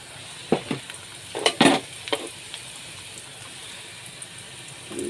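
Cabbage frying in a pan with ginger garlic paste, a few sharp bursts of sizzle and stirring scrapes followed by a quieter steady hiss, close up with no speech.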